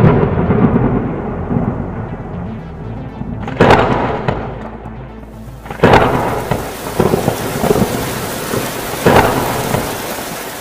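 Rain falls steadily while thunder cracks and rumbles repeatedly, some claps sharp and close, others rolling off into long, heavy booms over the constant downpour.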